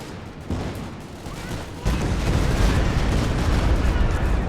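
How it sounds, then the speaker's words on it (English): A Stuka barrage of artillery fire in Company of Heroes 2 roars as a dense, continuous rumble of blasts that swells louder partway through, with faint voices underneath. "Stuka barrage"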